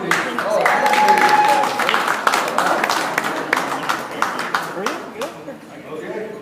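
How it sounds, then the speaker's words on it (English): Applause and clapping at a Lakota pow wow show, mixed with voices and crowd noise, strongest early then thinning into scattered claps. "How about a round of applause for these?"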